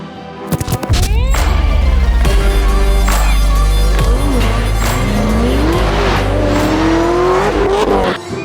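A big 1978 6.6-litre, 400-cubic-inch car engine roars loudly and continuously, revving up and down in pitch over rumbling low end, with tire screech layered in.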